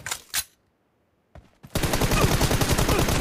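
Bursts of automatic gunfire from PUBG Mobile (Battlegrounds India) in a team deathmatch, a couple of short shots, then a pause before a loud, sustained rapid-fire volley that runs to the end.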